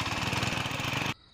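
A human voice mimics a shallow irrigation pump engine, producing a rapid, steady chugging putter like a small motor running close by for about a second before cutting off abruptly.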